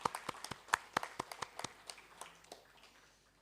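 A small audience at a library event claps briefly, sparse distinct hand claps in an uneven rhythm that quickly taper off, fairly quiet in a large room.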